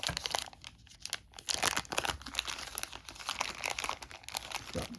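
Plastic baggie crinkling and rustling continuously during a board game unboxing, close and fairly steady with crackly bursts throughout.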